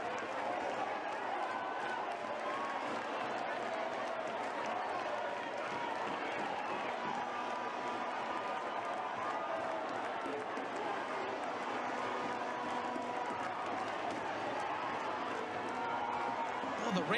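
Football stadium crowd at a Dominica versus Jamaica World Cup qualifier, a continuous roaring murmur of agitated fans held at a steady level, with a commentator talking over it throughout.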